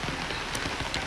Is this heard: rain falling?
yes